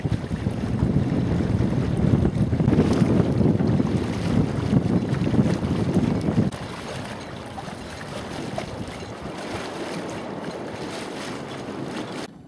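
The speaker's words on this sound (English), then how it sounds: "We're just gliding along gently. Not a lot of wind today. But the sails are well set, I think." A sailboat glides gently in light wind on the Lymington River near the Solent, with steady broadband wind and water rush that is louder in the first half, then eases to a softer, even hiss.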